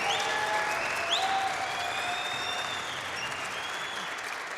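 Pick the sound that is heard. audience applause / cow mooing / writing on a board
audience applause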